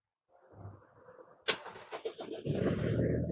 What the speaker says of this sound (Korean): 시동을 먼저 걸어줄 겁니다